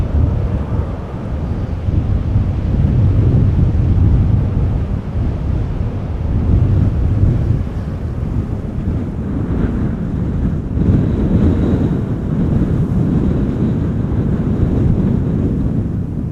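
Strong gusty wind after storm Isha buffets the microphone at Amsterdam Schiphol Airport, a loud, unbroken roar and rumble that swells and eases.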